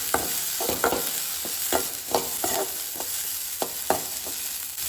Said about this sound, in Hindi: ओनियन को ना इसमें थोड़ा सा हल्का सा ब्राउन होने तक हम फ्राई करके लेंगे.